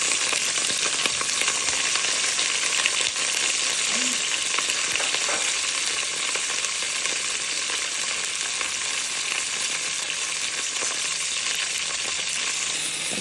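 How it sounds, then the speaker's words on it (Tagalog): Peppers fry in a pan with a steady, bright sizzle of hot oil that crackles continuously, close up and unbroken, with an occasional faint stir. "So may prito po ito, yung pepper."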